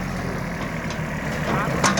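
An old Japanese compact 16 hp three-cylinder four-wheel-drive tractor idling with its hydraulic lift raised, a low steady engine rumble close by, with people talking over it.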